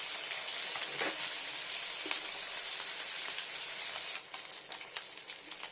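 Fish sizzling steadily in hot oil in a pan, coated in a paste of mint leaves, garlic, salt, turmeric and chilli powder, a continuous close crackle with occasional sharper pops.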